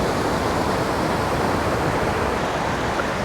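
A waterfall in Nepal heard up close, a dense, loud, unbroken roar of rushing water with no other sounds.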